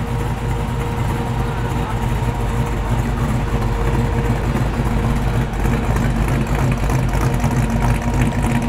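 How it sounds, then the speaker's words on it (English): A muscle car idles at a car gathering in Bungarribee Park, Sydney, its low, steady engine rumble holding even and close for the whole stretch, with a voice faintly heard over it. "Got a lovely idle to it as well."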